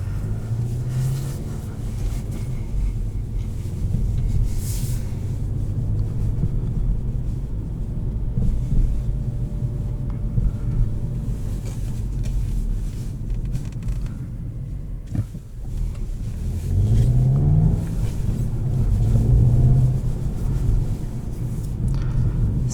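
A manual 2021 Volkswagen Golf GTI drives fast on the Autobahn, with a steady loud cabin rumble of engine, road and wind, and engine pitch sweeping upward under acceleration toward the end.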